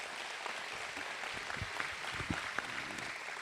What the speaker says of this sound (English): So clap that up.